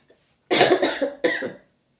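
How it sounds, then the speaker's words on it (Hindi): A short burst of coughing, two or three harsh coughs in quick succession, close and loud against silence. "थोड़ी बहुत खांसी हो रही है अभी"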